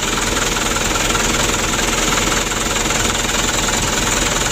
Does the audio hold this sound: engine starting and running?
yes